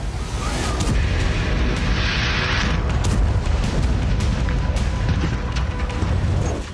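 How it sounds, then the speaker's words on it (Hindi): Explosions at a gas station in Grozny, Chechnya, Russia, after a Ukrainian attack produce a continuous, heavy roar of rumbling booms and crackling bursts. Sharp cracks are scattered throughout the dense, loud, distant-sounding din. "यूक्रेन के हमलों के बाद रूस के इस गैस स्टेशन में धमाके होने लगे।"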